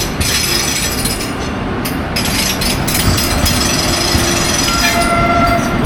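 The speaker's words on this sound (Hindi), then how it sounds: "ये मेन रेलवे ट्रैक है और भोपाल की तरफ से ट्रेन जा रही है।" A Vande Bharat train on the Jabalpur–Bhopal run rolls past on the main railway line near Itarsi, a loud, steady rumble of wheels and carriages filling the whole stretch, with faint tonal squeals and a brief horn-like tone near the end.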